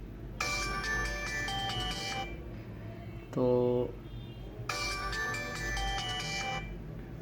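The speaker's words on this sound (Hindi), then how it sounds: "मैं अब रिंगर की आवाज़ कम करके ज़्यादा कर रहा हूँ ताकि ये साउंड सुनाई दे हमें।" A Tecno mobile phone's ringtone plays through its loudspeaker with the ringer volume turned up: two bright, melodic chiming bursts separated by a brief lower tone, with a short spoken word.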